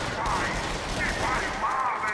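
Rapid gunfire from the VR shooter game Until Dawn: Rush of Blood runs as a dense continuous volley for a couple of seconds, loud and close over a busy game soundtrack.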